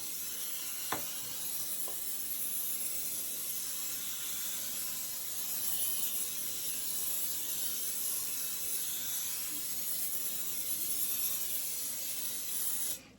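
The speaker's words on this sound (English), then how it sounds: "Spray your pan first before you do anything" Cooking spray is sprayed into a cake pan for a pound cake in a steady, close hiss lasting over twelve seconds, with a couple of faint clicks near the start, before cutting off abruptly.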